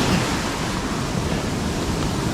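Shore break waves crash and wash continuously during a kayak fishing outing, a dense, steady roar of surf with no pauses.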